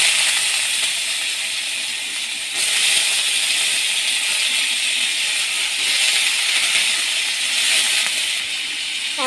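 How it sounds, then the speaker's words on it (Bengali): Sliced potatoes frying in oil produce a loud, continuous sizzling hiss that swells slightly partway through and holds steady and near for several seconds, with no voices. "এবার ওই তেলের মধ্যে কেটে রাখা আলুগুলো ভেজে নেব।"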